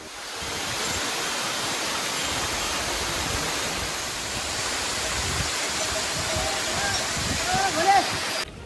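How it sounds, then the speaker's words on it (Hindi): A waterfall beside the Kedarnath trek trail in the Himalayas pours with a loud, continuous rushing roar that stays steady throughout and sounds close. "यहाँ पर एक झरना है जो कि बहुत ही खूबसूरत है।"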